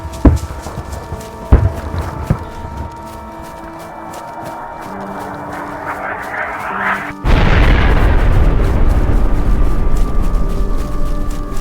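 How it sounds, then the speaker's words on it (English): Artillery explosions in the DayZ survival game: a few distant booms thud at first, then a loud, rumbling roar of blasts sweeps in and stays heavy to the end. "Sounds like artillery fire."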